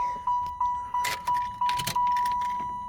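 A 1995 Cadillac Fleetwood Federal Coach hearse engine cranks over in steady starter pulses about three times a second, close and loud, with a constant high electronic chime running over it and no talk.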